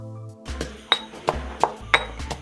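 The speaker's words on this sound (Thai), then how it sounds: "เราก็จะโขลก ขิงกับกุ้งแห้งเข้าไปด้วยกันนะคะ" Ginger and dried shrimp pounded in a mortar, giving five or six sharp knocks at a steady rhythm, each with a bright ringing clink, heard up close.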